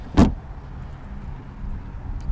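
The trunk lid of a 2016-17 Chevrolet Camaro 2SS is pushed shut with a single solid thud near the start, followed by a low, quiet background hum.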